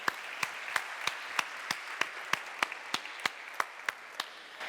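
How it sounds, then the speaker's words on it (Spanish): Steady, sparse applause from an event audience, individual claps landing in a fairly even rhythm over a soft continuous patter of hands throughout. "Y un fuerte aplauso por esos 100 clinics."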